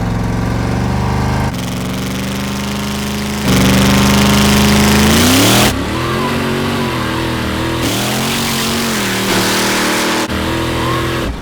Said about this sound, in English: Alright, I'm back on the trans brake. Okay? Bring the RPM up.